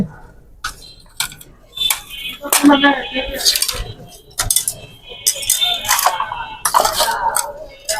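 Melamine tea cups and saucers clinking and knocking together as they are handled, bursts of bright clatter and chinks coming in irregular clusters at close range.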